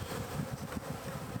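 Treatment-free honey bees buzz in a steady, close drone from an opened hive in Nebraska, the hum continuous with small swells and no voices.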